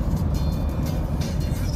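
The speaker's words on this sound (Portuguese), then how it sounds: "Mais caminhão, ó." A convoy of trucks rolls past on a Florida highway, heading away from Hurricane Irma. The steady, loud roar of engines and tires is broken by the swells of vehicles going by, with a voice faintly underneath.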